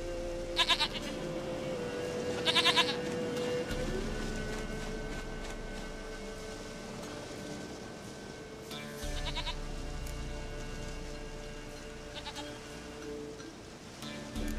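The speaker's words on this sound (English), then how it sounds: "Goat of mine, dearest, sweetest goat." Goat bleating in The Witcher 3 video game, a few short bleats spaced apart over steady rain-like ambience and a low game hum, with no talking.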